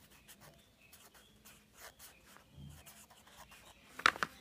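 A pen scratches across paper in soft, steady strokes, close but faint, ending with a few sharper taps.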